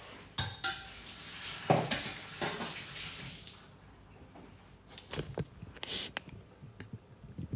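Chopped spinach stirred into a gnudi mixture in a bowl, with a spoon scraping and clinking against the dish in irregular bursts, close and fairly loud, easing into softer intermittent stirring.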